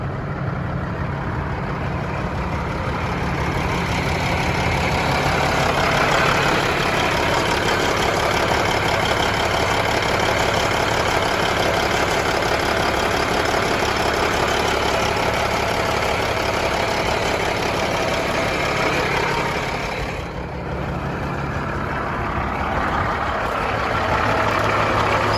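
A 2016 Kenworth W900L glider kit daycab with a single-turbo Cat 6NZ diesel idles close by. It gives a steady, loud, even rumble for the whole stretch, with only a brief dip near the end and no voices.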